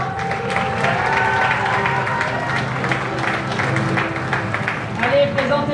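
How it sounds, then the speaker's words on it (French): An audience claps and cheers as contestants walk onto the stage at a Miss and Mister beauty pageant evening, with steady applause under faint background voices and a brief tonal sound near the end. "On les appelle en applaudissant bien fort."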